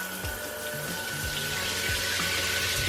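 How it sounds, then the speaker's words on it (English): Water runs steadily from a shower inside a converted school bus, a continuous spray with a faint pump-like hum beneath it and no talking. "We should have water in the shower."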